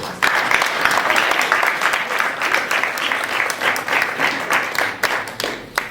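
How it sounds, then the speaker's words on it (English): Sustained applause from an audience at a school recognition breakfast, honoring students, families and presenters; dense steady clapping fills the room for the full stretch without a pause. "Please join me in another round of applause for all of our students,"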